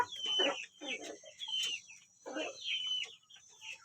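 Free-range village hens clucking in irregular bursts, close and moderately loud, with a bright steady hum or insect drone running underneath throughout.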